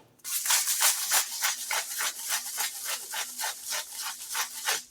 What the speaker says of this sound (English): You may also really love the salt grinder.